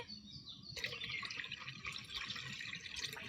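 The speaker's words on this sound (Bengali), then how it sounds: "এখন মিষ্টির জন্য শিরাটা বানিয়ে নেব এক মগ জল দেব এখানে" Water poured from a mug into a pot for making sugar syrup for a nolen gur sweet, a steady splashing and trickling fill close by, running without a break and without talk.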